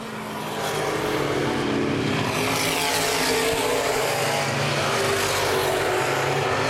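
Open wheel modified race cars roar around Baer Field Speedway in a dense, sustained engine blare that swells within the first second and stays loud as the pack passes close by.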